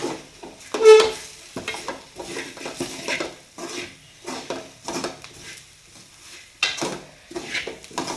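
Chili fries in oil over low heat in a clay pot while being stirred for chicken curry, with repeated close scraping and clinking strokes in an irregular rhythm and a faint sizzle between them.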